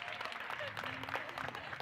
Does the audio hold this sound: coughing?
no